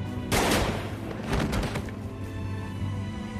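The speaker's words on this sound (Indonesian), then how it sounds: "si Danny langsung menembak Gibson, dan langsung terkapar tak berdaya" Gunfire in a film shootout, a loud close shot followed by a quick burst of further reports that echo and die away under a dense, rumbling background.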